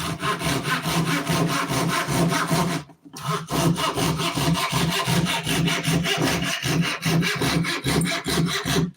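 Steady, loud back-and-forth strokes of a hand saw biting through wood, with a brief pause partway through before the rhythmic rasping resumes.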